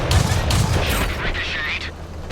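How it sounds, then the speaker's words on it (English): A tank shell ricochets in the World of Tanks video game amid dense, loud gunfire and booming impacts, a busy burst of battle noise with a short metallic whine. "Shot ricocheted."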